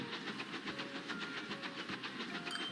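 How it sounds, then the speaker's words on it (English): A train running in Transport Fever 2, with a steady rhythmic clickety-clack of wheels over rail joints and a faint whistle-like tone held above, continuous and fairly quiet with no talk. "this is a decent train"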